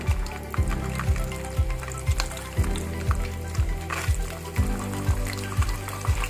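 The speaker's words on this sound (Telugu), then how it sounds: "ఆయిల్ వేడెక్కిన తర్వాత కొంచెం మినప్పప్పు వేసుకుంటాం తర్వాత పల్లీలు పల్లీలు వేసుకోవాలి" Urad dal and peanuts fry in hot oil for tamarind pulihora, a continuous sizzle broken by regular scraping stirs about twice a second, close and moderately loud.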